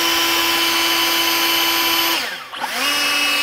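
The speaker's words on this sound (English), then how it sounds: "Here's the blower operating on high at normal. And then turbo." An EGO 615 CFM cordless electric leaf blower runs loud and steady with a high whine, dips briefly, then spins back up to a stronger turbo roar.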